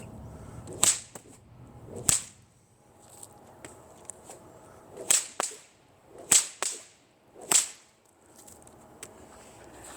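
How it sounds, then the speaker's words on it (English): A bullwhip cracks sharply five or six times at uneven intervals in a fast figure eight with an overhead crack and underhand flick, loud snaps with softer swishes between, no voices. "a fast figure 8 with a overhead crack and an underhand flick"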